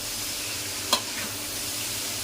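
Kohi, a Bangladeshi vegetable, fries with shrimp and spices in a pan at low heat, giving a steady close sizzle broken by a few sharp scrapes of a spoon stirring.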